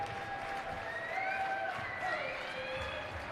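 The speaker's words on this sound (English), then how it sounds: "A light applause coming from the fans" Light applause from fans at a men's college basketball game, MSU Moorhead against St. Cloud State, soft and steady across the whole moment, with a thin high tone drifting over the crowd noise.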